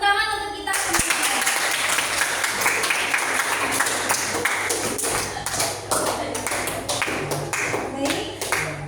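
A group claps hands together in dense, steady applause that carries on for about nine seconds, loud and close, with no one speaking over it.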